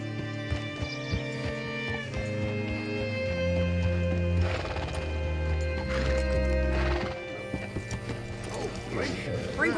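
A horse whinnies and hooves clip-clop amid layered Red Dead Redemption 2 game music and mechanical clatter, fairly loud and continuous throughout.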